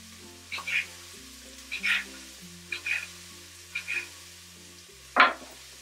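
Onion sautéing in a pan, its sizzle rising in a few short bursts over a quiet steady hiss, with background music playing throughout.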